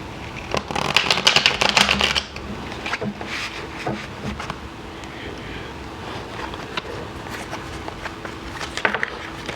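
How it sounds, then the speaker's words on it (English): Tarot deck shuffled by hand at close range, a dense riffling burst followed by softer, irregular card slides and taps over several seconds. "I'm going to go ahead and shuffle these on screen"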